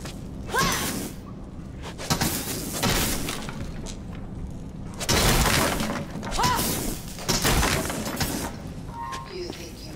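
Objects being smashed in the zombie game Dead Island 2: repeated loud crashes of shattering glass and breaking debris with swishing swings, recurring every couple of seconds over a steady game background.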